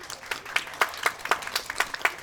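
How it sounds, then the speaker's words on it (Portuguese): An audience at a book launch applauds in a short burst of rhythmic clapping, moderately faint and heard from within the room. "Vamos aplaudi-la."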